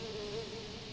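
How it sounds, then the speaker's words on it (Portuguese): A fly buzzing close up, a continuous steady drone with a slight wavering pitch and no talk over it. "Vai entrar na boca do Pedrinho, o gajo vai acordar com a mosca"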